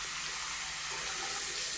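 Water running from a faucet into an IKEA vanity sink, a steady, even hiss of flowing water close by and fairly quiet, continuous for the whole short stretch with no talk.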